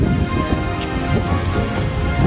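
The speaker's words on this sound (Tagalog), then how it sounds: "Umulan na po, ganito po umulan dito sa kabundukan" Steady rain falls in the mountains, a dense, even wash of noise across the whole clip, fairly loud and close with no distinct drops standing out.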